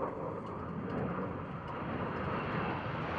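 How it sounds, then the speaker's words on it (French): A Dassault Rafale jet of the French Navy at Landivisiau naval air base, a broad, steady roar of aircraft engine noise that holds at an even loudness throughout, with no talk. "Place à la force brute, le Dassault Rafale."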